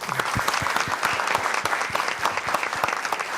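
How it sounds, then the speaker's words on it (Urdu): Studio audience applauding during a Ramzan special television program, a steady burst of dense clapping throughout with no voices over it. "اپنے لیے تالیاں بجا دو"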